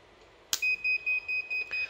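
An inverter's alarm buzzer sounds after a short-circuit test made with a screwdriver: a sharp click, then a run of six evenly spaced, steady high beeps, close and loud.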